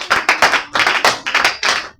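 Applause for Jesus from a church congregation: a short burst of lively, uneven hand clapping, close and fairly loud, with no talking over it.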